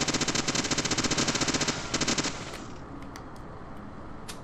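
Rapid automatic gunfire in the video game Deadly Premonition: a fast, loud, regular burst of shots lasting about two seconds, a brief pause and a short second burst, then a few scattered faint clicks and bangs.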